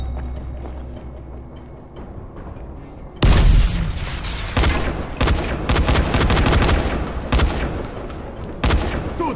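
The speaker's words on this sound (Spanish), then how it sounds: "¡Granada va!" A grenade blast in the zombie game Dying Light booms loudly after a low rumbling lull, followed by bursts of gunfire and repeated sharp impacts, with a final crack near the end.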